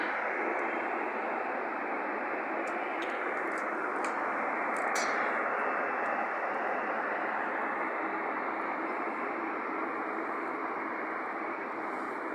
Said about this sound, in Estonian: Siin on üks mingi Sun Express lennuk läheb kuskile.